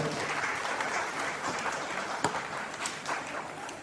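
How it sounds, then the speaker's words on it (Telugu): Crowd clapping at an engagement ceremony for Supriya Evangeline and Praveen Kumar, a steady, dense patter of many hands held at an even level for several seconds with no talk over it. "అందరం చప్పట్లు కొడదాం ఒకసారి"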